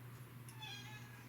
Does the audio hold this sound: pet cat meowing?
yes